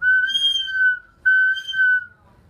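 An eagle bone whistle gives two shrill, piercing blasts, each about a second long at a steady high pitch with a short gap between, close and clear over a quiet background.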